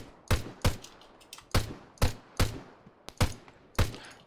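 Gunfire in the XCOM video game with the Vcom AI mod: about nine sharp, loud shots spaced unevenly across a few seconds, each with a short decaying tail, and no talking.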